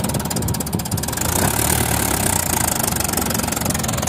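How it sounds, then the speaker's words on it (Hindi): Tractor engine running during a second-gear tractor competition: a loud, steady diesel rumble with a rough knocking throb and vibration, continuous and close, no speech. "हाँ सुनो ट्रैक्टर की आवाज़ सुनो"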